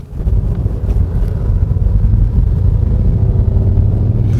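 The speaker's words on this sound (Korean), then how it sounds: "엔진이 이제 작동을 시작을 했을 때는요, 좀 걸걸한 그런 느낌이 있죠." The 1.6-litre hybrid engine of a 2023 Kia Niro Hybrid runs with a rough, gravelly low rumble, loud and continuous throughout, with no voices over it.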